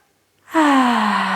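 A single deep, close inhale during a calm breathing exercise, rising quickly and held steadily for about a second after a short silence.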